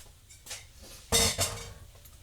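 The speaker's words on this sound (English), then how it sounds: "And then we're just going to put that lid on it" A lid is set onto a metal cooking pot for a sun oven meal of pork chops in mushroom gravy, giving two close, sharp metallic clanks in quick succession, the first louder.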